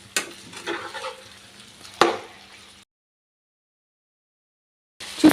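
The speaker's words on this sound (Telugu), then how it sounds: "చికెన్ అంతా కూడా ఈ ఆయిల్లో మొత్తం కలిసేలాగా ఇలా గరిటతో చక్కగా కలుపుకుందాం" Chicken fries in oil and is stirred with a ladle: a close sizzle with scraping strokes and one sharp clack of metal, then a stretch of silence before a final burst of stirring.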